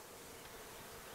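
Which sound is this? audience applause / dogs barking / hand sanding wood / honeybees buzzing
honeybees buzzing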